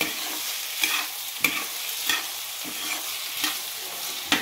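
Green chili, onion, potato and soy chunks fry in hot oil with a steady close sizzle, broken by a few sharp stirring scrapes spaced through the clip.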